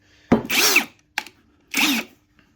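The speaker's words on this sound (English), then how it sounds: "as we loosen it, the chuck retracts, and then if we go the other way, the chuck tightens" Two bursts of a Ferrex cordless combi drill whirring briefly as the chuck loosens and tightens, with a short click between them, close and clear against a quiet background.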